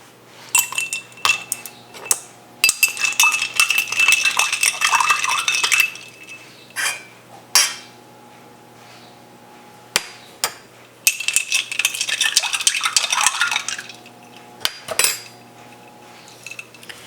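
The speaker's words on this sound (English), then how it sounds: "I'm gonna put some ice in this and do a taste test" Ice cubes clinking and rattling into a glass of wild violet tea, coming in two clustered bursts of bright clatter with scattered single knocks between and after, close and free of speech.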